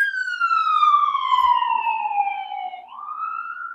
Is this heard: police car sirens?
yes